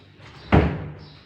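A sliding drawer in a hardwood cabinet with a granite top pushed shut, giving one close, solid thump with a short woody rumble that fades.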